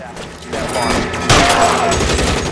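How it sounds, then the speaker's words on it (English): Gunfire crackles through a shootout in the video game LA Noire, with a volley of shots that swells sharply midway and continues loud and dense to the end. "this is the first shootout since the first episode"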